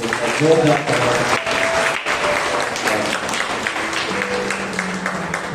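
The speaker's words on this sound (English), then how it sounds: "Let's go mighty clap to Jesus" A congregation claps at a Monday prayer meeting, steady sustained clapping from a gathered crowd with voices and sung or spoken tones running over it throughout.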